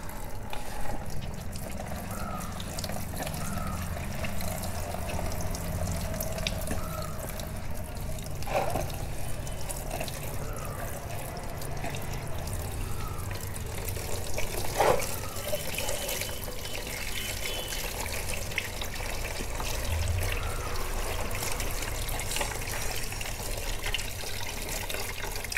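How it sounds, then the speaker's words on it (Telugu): Tap water runs slowly over a cotton performance air filter, such as a K&N or BMC, during rinsing; a faint, steady trickle continues evenly throughout. "జస్ట్ మీరు ఇలాగా ట్యాప్ వాటర్ స్లోగా ప్రెషర్ చేస్తే చాలు"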